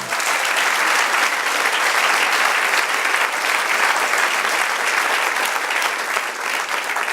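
A church congregation claps in praise to God, steady dense applause filling the room for about seven seconds with no talk over it.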